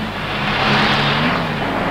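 On an early-1970s Glasgow street, a vehicle engine roars past at close range, a brief loud swell of motor noise rising and easing off over a steady traffic rumble.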